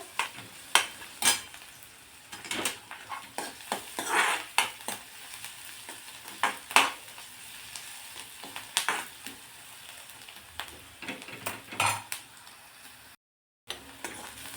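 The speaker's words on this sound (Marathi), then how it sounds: "कांदा थोडासा आपण परतून घेऊ म्हणजे याचा कच्चेपणा दूर होईपर्यंत" Chopped onion, cut into thick pieces, sautéing in a pan as a vegetable dish of hadga flowers is prepared, giving a steady soft sizzle broken by repeated scraping and stirring clatters, with no talking.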